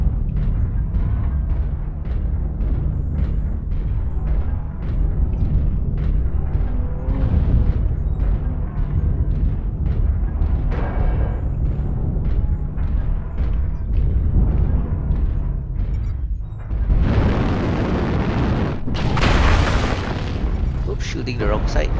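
Mech weapons firing in a video game: a steady rapid stream of shots under constant rumbling combat, then two large booming explosions near the end, with a voice talking over the action.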